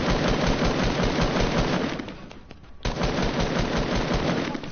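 Sustained rapid automatic gunfire in a video game, loud and dense, briefly dropping away for under a second before resuming at full intensity.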